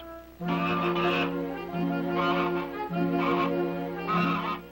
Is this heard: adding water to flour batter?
no